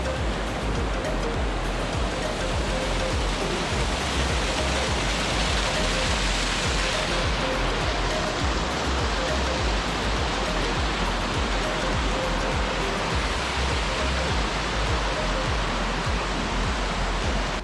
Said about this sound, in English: You can hear the water coming.